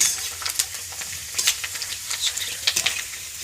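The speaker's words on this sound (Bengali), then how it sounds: "এখানে আমি চিপসগুলো ভেজে নিচ্ছি" Potato chips fry in hot oil in a pan, giving a steady, close sizzle with crackling bursts and stirring scrapes throughout.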